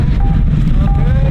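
Steady low rumbling wind buffeting a microphone at Dumont Dunes sand dunes, constant and loud throughout, with faint voices or tones underneath.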